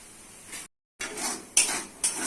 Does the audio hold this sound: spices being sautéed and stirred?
yes